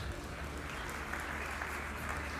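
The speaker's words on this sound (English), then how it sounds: "Let's give a round of applause to our panelists" Sustained applause from a conference audience for panelists at an energy localization event, a dense, steady wash of clapping holding at even loudness throughout.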